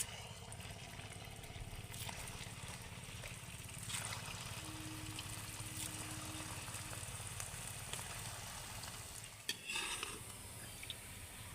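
Semolina snacks deep fry in a pan of oil, giving a steady, fairly quiet bubbling hiss with faint crackles and one brief knock near the end.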